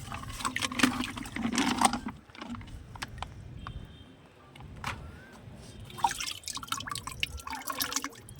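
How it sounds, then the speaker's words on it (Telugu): Water mixed with jaggery is poured for watering plants, with uneven splashing and dripping bursts close by, pausing midway before pouring resumes. "వాటర్ వేసుకుందాం."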